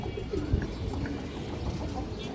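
Low pigeon coos drift in and out among loft birds, with a green-necked female nearby, the calls soft and intermittent over a steady background murmur and an occasional light thump.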